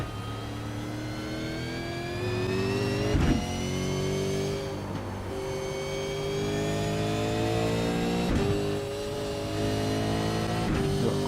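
A V8 race car engine at Zolder in a racing sim, a loud, close, steady drone that rises in pitch through each gear, with three clear shift breaks and a drop back down to second gear.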